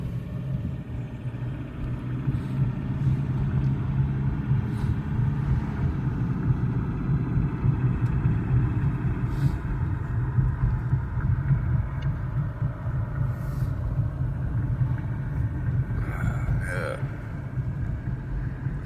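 A car rolls through city neighborhoods in Detroit, its engine and road noise forming a steady low rumble from inside the vehicle, with faint brief sounds near the end.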